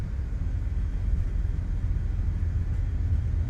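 A CRJ regional airliner's engines roaring during takeoff in Microsoft Flight Simulator, a steady, close, broadband rumble and hiss without break or voices.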